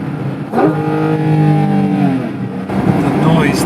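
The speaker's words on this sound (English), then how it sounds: "our microphone is overwhelmed by the induction roar" A Porsche GT4 RS's intake roars loudly and close, its pitch climbing through rising revs, dropping briefly, then surging again.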